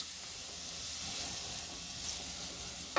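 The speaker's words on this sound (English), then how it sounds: "Here comes our peppers and our onions." Peppers and onions sizzle steadily in hot olive oil with garlic, a constant close hiss that holds evenly throughout, ending with a brief clatter.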